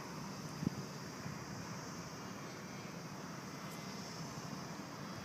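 A homemade model airplane lands outdoors, its faint, steady motor drone blending with wind rumble at the microphone. A single small knock comes early on, and nobody speaks.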